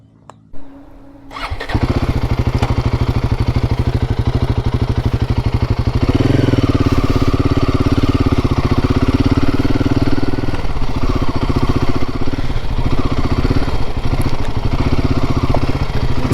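A motorcycle, a touring bike fitted with saddlebags, cranks and fires up after a brief click, then settles into a loud, steady close-up engine drone that rises and holds for over ten seconds as it pulls away.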